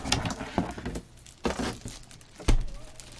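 Crinkling plastic bag around an air purifier being unboxed, a series of close rustling bursts and crackles with quieter gaps between, no talking.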